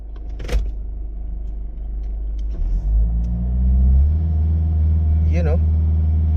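A 2015 Chevrolet Captiva with low power has its engine held in a stall speed test, a steady low rumble that climbs in pitch and loudness partway through and then holds, with a voice speaking over it.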